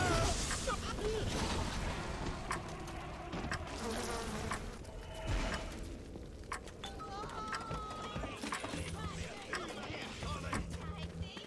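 A swarm of bees attacks in the video game BioShock Remastered, a dense buzzing drone that fills the whole stretch alongside gunfire-like bursts and game noise.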